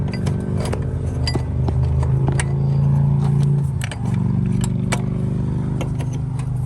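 A belt tensioner being worked into place from underneath a Honda Accord, with the alternator in the way: scattered metallic clinks and jangles over a steady, loud hum.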